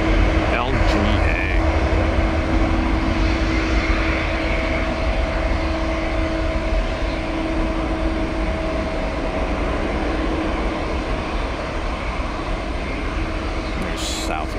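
Southwest airliner taxiing out at Tampa airport as a storm builds: steady, loud jet engine rumble and whine running throughout, continuous and fairly close, with outdoor wind noise and no clear speech.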